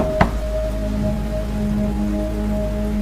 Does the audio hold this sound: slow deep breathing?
no